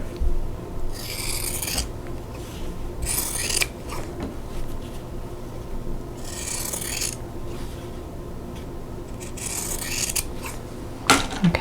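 Scissors slice through quilting fabric in several rasping bursts, cutting apart sewn squares for a Black Diamond quilt block, close and fairly loud with quiet pauses between cuts.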